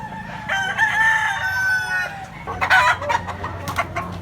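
A yellow-legged gamecock rooster crows loudly and close by, a long drawn-out call, followed by a second bird's crow and clucking with some background noise.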